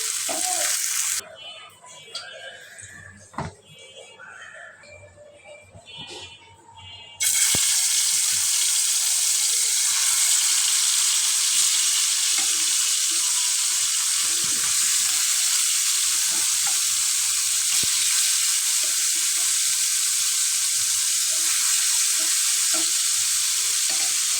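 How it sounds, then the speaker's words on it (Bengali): Fish sizzles in a pan: after a few seconds of quieter, uneven cooking sounds, a loud, steady hissing fry takes over and continues evenly to the end, close and dominant, with no talking. "আর হচ্ছে মাছ ভাজা বসাই দেবো এইটাতেই"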